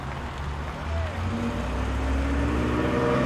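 A Porsche sports car at the Rallye de Paris 2016 in Ouzouer-sur-Trézée, its engine note swelling and rising in pitch as it approaches and passes nearby, loud and continuous.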